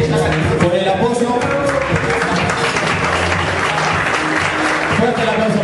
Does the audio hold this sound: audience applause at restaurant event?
yes